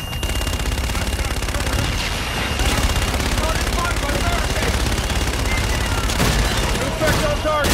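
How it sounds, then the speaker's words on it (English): Aircraft gun-run fire in the Call of Duty: Infinite Warfare video game, a dense, loud, continuous burst of rapid cannon shots and booms lasting several seconds, with radio chatter underneath. "Inbound for gun run. Guns, guns, guns."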